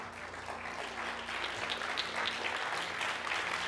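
A church congregation claps their hands together during a worship service, a dense, steady patter of many hands continuing throughout, with a low sustained musical tone underneath.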